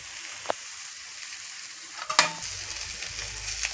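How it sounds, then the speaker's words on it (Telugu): Fish frying with chili powder in a pan, a steady sizzle with a sharp clink of the stirring utensil partway through and scraping after it. "కలుపుకోవాలి ఫ్రెండ్స్, మంచిగా కలుపుకోవాలి."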